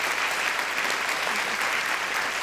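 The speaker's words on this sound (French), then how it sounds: "Je vous demande d'applaudir Ipek Yalcin" Audience applause at a thesis presentation final, continuous loud clapping from a seated crowd, even and unbroken from start to end.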